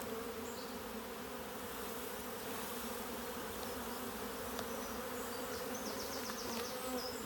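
Many honeybees hum continuously around a hive in a dense, steady buzz close to the microphone, with no speech and only faint extra clicks.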